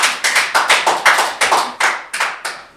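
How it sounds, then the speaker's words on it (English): Scattered applause breaks out in a city council committee room, a dozen or so sharp, irregular clap bursts close together, loud and without talk. "This is not an arena for applause or booing."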